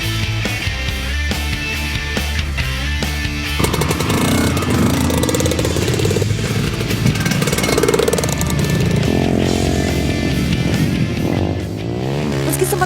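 Trail motorcycles ride along an island beach in Buton Selatan, Indonesia, their engines droning loud and steady throughout with revving rises and a rough, rattling edge, close to the listener.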